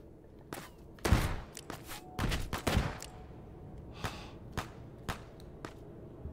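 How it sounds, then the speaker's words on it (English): Gunshots from the shooting game Hot Dogs, Horseshoes & Hand Grenades crack out in sharp, uneven bursts, a loud cluster early on and then scattered single shots further apart. No one speaks over them. "Are they shooting each other?"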